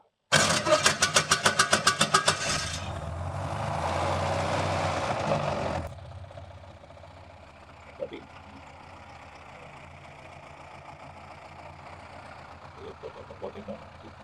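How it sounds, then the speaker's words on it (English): A 1911 Clathorpe Roadster engine, fitted with an offset-crankshaft motor, cranks with a rapid rhythmic starter chatter, catches into a steady rumbling run, then drops to a quieter, even idle with occasional clicks. "you pull out the choke and you press the start."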